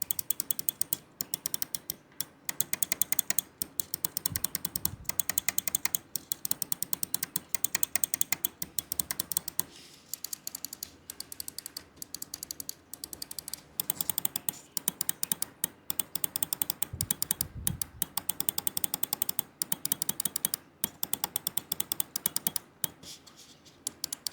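Rapid, crisp clicks of a computer mouse switch, repeated in quick bursts with short pauses between, close up and with no talking.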